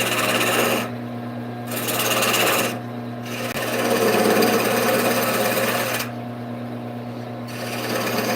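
A turned wood piece being sanded on a running woodturning lathe, giving a continuous loud rasping hum over the motor drone, the scratchy sound fading and returning in several passes.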